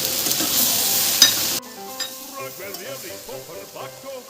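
Fried kidney beans go into a pan with grated tomato. A loud hiss cuts off suddenly, leaving a quieter sizzle with scattered scrapes and stirring clatter.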